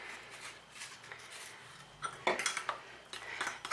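A spoon mixing vanilla essence into banana puree in a bowl, quiet wet stirring followed by clinks and scrapes of metal against the bowl, close and fairly faint, with no talking.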